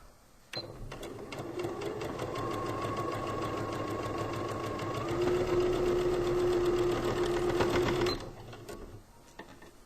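A sewing machine stitches through four layers of fabric for a pillowcase, a steady close mechanical whir with rapid needle clatter that starts abruptly, runs about seven seconds with a slight rise in pitch, then stops.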